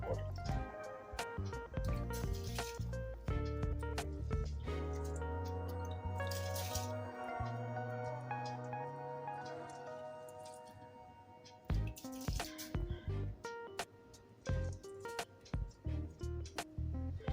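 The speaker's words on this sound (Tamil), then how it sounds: "இப்போ நம்ம ஊற வச்சிருந்த அந்த பாஸ்மதி ரைஸை பத்திரம் போடுறோம்." Soaked basmati rice goes into a pot of hot water with a sustained wet pouring and splashing rush. It is followed by scattered drips and light splashes as the pouring ends, close and fairly quiet, with no talking.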